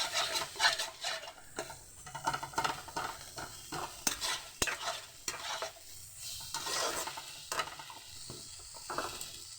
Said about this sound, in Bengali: ভালোভাবে মশলাটাকে কষিয়ে নেব।